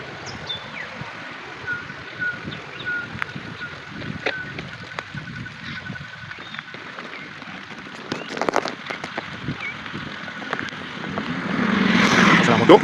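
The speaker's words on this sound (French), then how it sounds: "C'est la moto qui passe." A motorcycle passes in a rural Equatorial Guinea village, its engine rising from faint to louder toward the end over scattered birdsong, small knocks and occasional talk.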